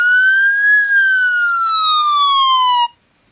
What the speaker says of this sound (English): Or police sirens.